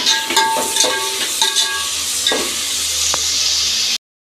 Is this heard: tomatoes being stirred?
yes